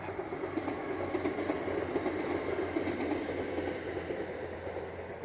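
A train rolls over an old bridge above a canal, a steady rumbling rattle of wheels heard from below, continuous and moderately loud throughout.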